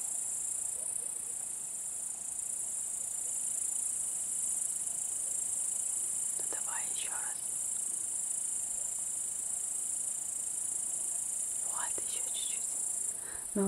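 Grasshoppers chirping outdoors, a constant high, thin trill that fills the whole stretch, with a few faint voices in the background.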